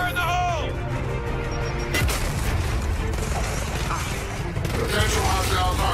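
A grenade explodes amid Gears of War 4 combat, a heavy boom followed by sustained rumbling, debris and mechanical clatter, with a voice heard in the mix.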